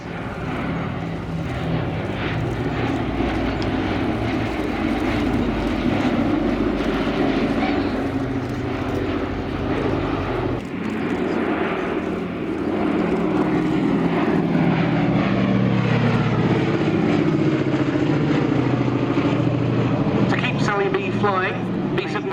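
Boeing B-17 bomber flying at the Shoreham airshow, a steady heavy drone of piston engines and propellers filling the air throughout, with an announcer talking over it on the public address.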